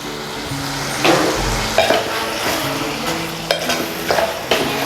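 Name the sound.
chicken sautéing in oil in a pan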